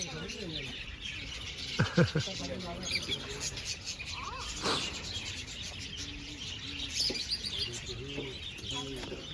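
Lovebirds chirp and tweet in scattered bursts, with people talking nearby and some rustling in between.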